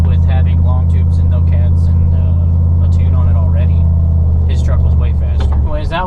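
A cammed Chevrolet Silverado pickup's engine does pulls, a loud steady low rumble that drones throughout while someone talks over it.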